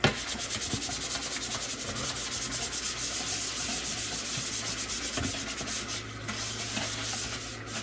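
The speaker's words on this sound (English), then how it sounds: "I'm going to clean the other lid that makes the bad sound." Continuous brisk scrubbing, fast back-and-forth rubbing strokes against a hard lid, close by and steady, with no talking.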